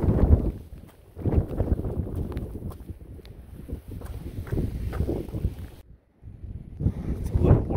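Wind gusts hard across open high ground in the Grayson Highlands on the Appalachian Trail, buffeting the microphone in loud roaring surges that drop briefly to near silence before returning.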